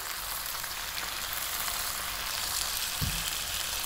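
Chopped tomato sizzles steadily in a hot pan with a continuous, even hiss and a small clatter near the end.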